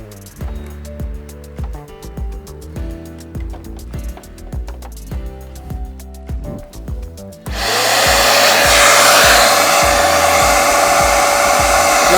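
A plucked, rhythmic musical passage plays first, then a vacuum cleaner powered by a BLUETTI AC200Max charging station kicks in with a loud, steady, whining roar that runs to the end.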